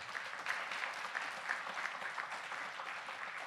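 Audience applause at a big band concert, a steady wash of many hands clapping at moderate distance, fairly faint and sustained through the moment without talk.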